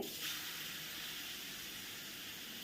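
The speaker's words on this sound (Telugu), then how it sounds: "ఒక రెండు నిమిషాల పాటు స్టవ్ ఫ్లేమ్ సిమ్లో పెట్టుకొని వేయించుకోవాలి" Grated carrot frying in ghee over a low flame gives a steady, soft sizzle and hiss that stays even and close throughout, with no talking.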